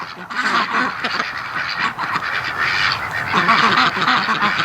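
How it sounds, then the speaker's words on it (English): A large flock of about a hundred ducks quacking together, dense and continuous chatter that stays loud and close throughout. "literally about 100 ducks come over and basically pushed him into the corner"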